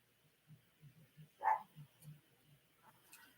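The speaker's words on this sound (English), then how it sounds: "she's just barking at the TV" A dog barks at a television in a quick series of soft, muffled woofs, one sharper and louder yelp in the middle, heard from a short distance in a quiet room.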